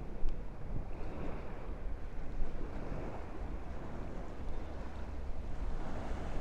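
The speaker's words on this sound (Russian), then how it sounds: "Сегодня оно неспокойное, Кинерет. Видите, волны, как море." Rough waves on Lake Kinneret wash and churn in a continuous dense roar, with wind buffeting the microphone throughout and no voices.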